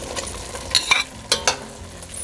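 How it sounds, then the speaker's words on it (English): Beans being added to a pan while cooking vegan Equatorial Guinean haricot and coconut rice, with a soft background sizzle and a few sharp scraping and clinking stir sounds at close range. "Now we add the beans."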